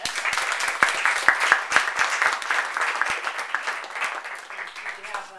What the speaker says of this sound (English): I'd like us all to give a round of applause to our guests.